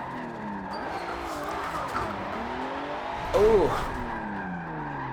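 A Nissan R32 Skyline drifts in Forza Motorsport 7, its engine droning steadily while tires squeal through the slide, with a sharper screech near the end. A single brief exclamation is heard.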